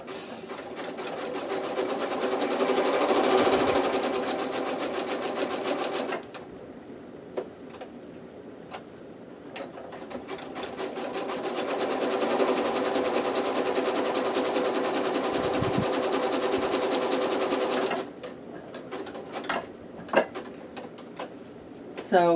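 A sewing machine stitches a curve in two long runs of rapid, steady needle clatter separated by a quieter pause for pivoting, followed by a few scattered clicks and handling sounds.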